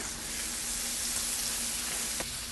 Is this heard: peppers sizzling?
yes